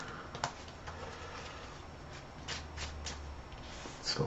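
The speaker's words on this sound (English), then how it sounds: "So I'll shuffle my deck." A deck of cards shuffled for the card game Marvel Champions: soft riffling patter and light card snaps, close and quiet, with a few sharper flicks near the end.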